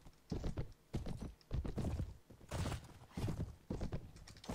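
In Mount & Blade: Warband (Floris mod), a galloping horse pounds out rhythmic bursts of heavy hoofbeats that repeat evenly and sit close and clear, with no talking.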